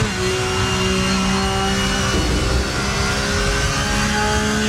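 A GT3 race car in the RaceRoom racing game drones loudly at high revs, its engine tone dropping in pitch midway as it shifts down a gear, then holding a steady, strained note.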